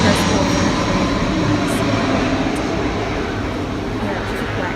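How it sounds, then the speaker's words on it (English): A fixed-wing airplane passes over a hotel in Greece that sits under a flight path, a loud, steady broadband engine roar filling the scene from start to finish. "Yeah, it's just a plane."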